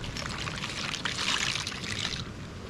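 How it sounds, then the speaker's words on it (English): Noodles slide into a pot of boiling water at a camp stove, giving a close splashing, pouring sound with bubbling over about two seconds before it eases. No one speaks. "Noodles going in."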